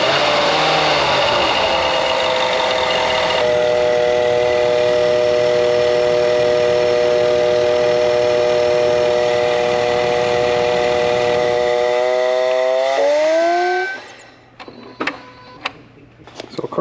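Land Rover LR4 engine running with a fault at the crankcase vent area, giving a loud sustained whining, whistling drone with steady tones that bend downward and die away near the end, followed by faint clicks.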